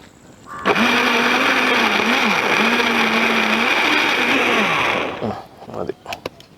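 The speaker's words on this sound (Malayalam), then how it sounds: "തക്കാളി, കുറച്ച് പച്ചമുളക്, കുറച്ച് വെളുത്തുള്ളി, ഇഞ്ചി, അതുപോലെ തന്നെ കുറച്ച് സവാള, വലിയ ഉള്ളി. ഇതൊന്ന് അരച്ചെടുക്കണം നമുക്ക്" An electric blender grinding tomato, green chilli, garlic, ginger and onion into masala for alfaham chicken, a loud close motor whine that starts abruptly, runs steadily with slight pitch dips for about four seconds, then stops, followed by a few light knocks.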